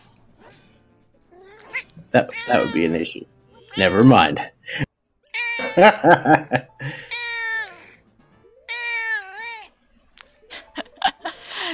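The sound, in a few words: cat meowing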